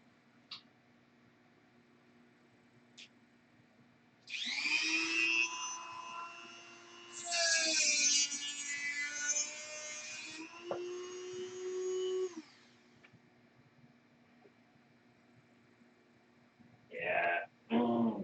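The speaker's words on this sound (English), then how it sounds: "put it in the drill, and drill a hole with the tubing" A power drill spins up three times to bore a hole through a piece of tubing, each run a loud, whining motor burst lasting a few seconds, with quiet gaps between them.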